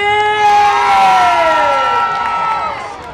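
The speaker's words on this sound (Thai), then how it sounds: "ขอเสียงปรบมือกับเบลล่าลานี" A crowd cheering and whooping for Bella at a Nekko booth event, a loud dense swell of excited voices with high children's shouts that stays strong and slowly eases toward the end.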